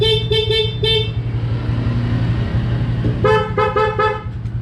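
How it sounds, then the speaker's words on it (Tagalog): A car horn honks loudly in short repeated bursts, four quick toots, a pause over idling engine noise, then another rapid series of honks. "Busina natin."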